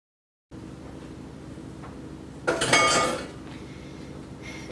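Spatula scraping and clinking against a dish while spreading a frozen yogurt bark mixture topped with nuts and berries, a short burst of close scraping after a quiet stretch, with faint handling noise at the end.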